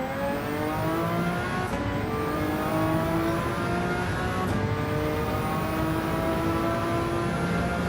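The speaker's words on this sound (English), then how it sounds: "the 7-liter V12 with twin turbochargers" A twin-turbo 7-liter V12 race car in Gran Turismo 7 holds a loud, steady engine drone with high harmonics, and two brief gear-shift dips break the sustained roar.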